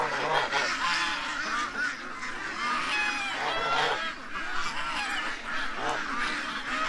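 A flock of ducks by a running creek keeps up a loud, continuous chorus of honking quacks, many birds calling over one another at close range.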